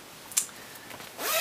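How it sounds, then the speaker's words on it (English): Zipping up an Eddie Bauer Point Success jacket: a brief scratchy rasp near the start, then a long bright zip drawn all the way up at the end, close and alone with no talk. "Just zip this all the way up, covers up my lower chin"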